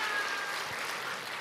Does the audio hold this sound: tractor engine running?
no